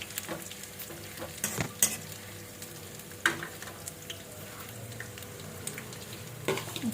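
Dried bird eye chillies frying in a pan for pickle, a quiet sizzle with scattered stirring clicks and scrapes, fairly close and low in level.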